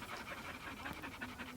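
Dogs panting in warm shade among rocks at a campsite in Zion National Park, a steady rapid rhythm of quick breaths, close and fairly soft, with no talk.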